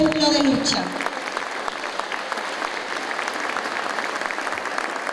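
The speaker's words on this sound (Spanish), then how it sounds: "Un aplauso fuerte para ustedes" Loud applause from an audience fills the space after a brief voice at the start, a dense steady patter of many clapping hands continuing without a break.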